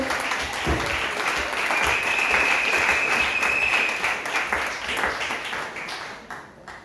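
A wedding congregation bursts into sustained, loud applause and cheering for the bride, a dense wash of clapping that swells, holds for several seconds, then fades toward the end.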